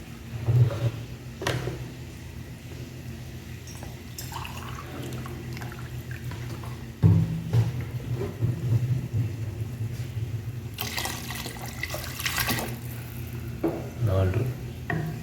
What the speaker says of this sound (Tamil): ஸோ 3 கிளாஸ்க்கு 4 கிளாஸ் தண்ணி ஊற்றிருக்கேன்.